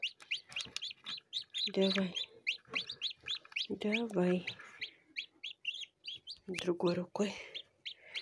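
Newly hatched chicks peep in a steady stream of high, rapid chirps close by, while someone talks over them in bursts.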